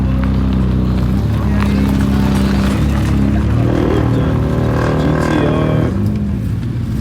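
A Nissan GT-R at a Long Island car meet drives past with a loud, steady engine drone that swells in the middle, mixed with other car noise and people talking nearby.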